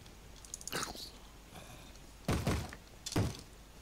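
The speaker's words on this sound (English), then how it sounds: "I can hear a zombie punching a door." Zombie punching a wooden door in Minecraft with the FTB modpack, a few heavy thuds: a faint knock near one second, then two loud blows around two and a half seconds and another near three, fairly close.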